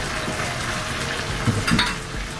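Ground spices with turmeric sizzle in a pan for fish curry. The frying hiss is steady and close, with a couple of brief stirring scrapes near the middle and no speech.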